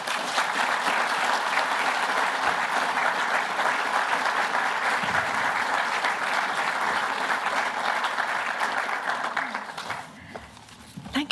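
A large audience applauds warmly for artist Patricia Piccinini, steady dense clapping that holds level for about nine seconds before thinning and fading near the end.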